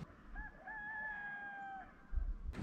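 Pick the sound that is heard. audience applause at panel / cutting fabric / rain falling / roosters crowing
roosters crowing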